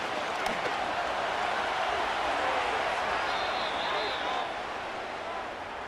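Buffalo Bills home crowd in a stadium during a late-game NFL matchup against the Jets, a steady loud roar of cheering and jeering throughout, with broadband noise and no distinct breaks.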